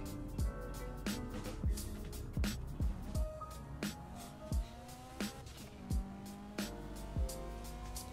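Car engine revving and shifting in the video game GTA, with rising engine tones, regular gear-change dips and occasional tire squeal, continuous and fairly loud.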